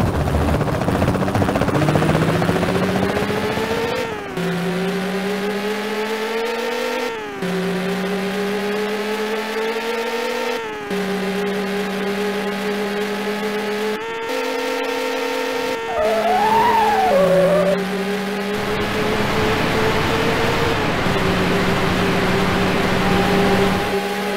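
Race cars in the arcade racer Rage Racer: a continuous loud engine whine rises and drops in pitch as gears shift, with several abrupt cuts between shifts and the roar holding steady to the end.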